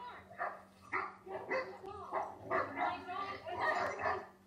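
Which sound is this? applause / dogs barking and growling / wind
dogs barking and growling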